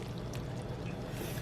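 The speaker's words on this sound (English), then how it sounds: "Just pour the pasta in." Drained pasta is poured into a pan of hamburger stroganoff sauce, giving a steady, soft, wet rushing pour that runs without a break for the whole short moment, with no talking over it.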